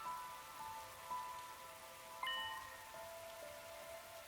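Rain falling outdoors in the game The Hundred Line: Last Defense Academy, a faint, steady patter with no voices, over a thin layer of quiet game music.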